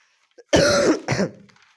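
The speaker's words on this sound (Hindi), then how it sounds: "यार खांसी बहुत आ रही सच में" A single close cough in two harsh bursts, followed by silence.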